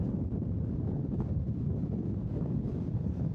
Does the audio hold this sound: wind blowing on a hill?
yes